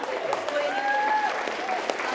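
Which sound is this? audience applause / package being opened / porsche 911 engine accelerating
audience applause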